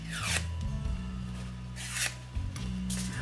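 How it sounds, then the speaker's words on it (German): Gift wrapping paper being curled with a scissor blade, several quick scraping swipes with short pauses between, close and fairly quiet, with no talk. "Ringeln wir noch das Papier."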